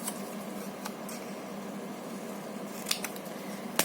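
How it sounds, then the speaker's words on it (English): A few sharp scissor snips trim paper for a journal page, spaced out over a steady background hiss, with a cluster of crisp cuts near the end. "So I can trim this part off"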